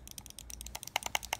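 The buttons of a Motospeed V30 gaming mouse are pressed in a quick, uneven series of sharp, close, light clicks, with no talking.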